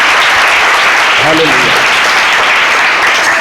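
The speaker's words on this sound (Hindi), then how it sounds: "आए जोरदार तालियां बजाइए यीशु मसीह के जलाल के लिए" A church congregation at a Sunday meeting breaks into loud, dense applause that holds steady throughout, with a short spoken exclamation cutting through the clapping.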